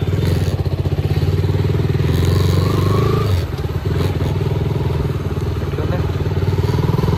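A KTM Duke 200 motorcycle out on a test ride, its engine droning steadily and loud close to the microphone with a rough, buzzing throb, a slight dip midway, and faint rattles over the running engine.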